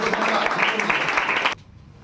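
Dense audience applause at a Hindi school results ceremony honouring top students, a burst of many hands clapping at once that cuts off abruptly to near quiet after about a second and a half.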